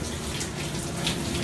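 Tap water runs steadily for the whole stretch during ablution (wudu) washing, a constant close splashing rush with no talking.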